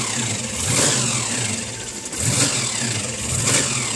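A 1939 Studebaker Pro Street car engine, heard up close and loud, rumbling at idle between a few sharp rev-ups that rise and fall in quick succession.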